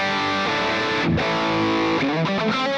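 Electric guitar run through an Axe FX processor in stereo plays dense, sustained distorted chords that shift midway, loud and continuous.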